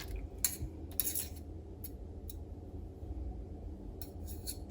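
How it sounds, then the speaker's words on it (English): A utensil scrapes whipped butter off a metal mixer whisk into a bowl, giving a few brief, faint metallic scrapes and clicks over a quiet room hum. "So we're going to scrape all that off there."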